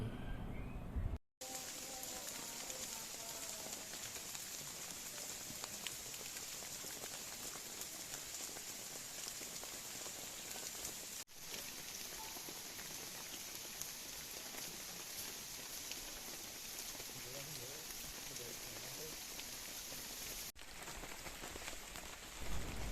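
Steady rain pours during a storm on Mount Gede, a broad continuous hiss of drops drumming on surfaces close by, with two brief cut-offs and no clear voices.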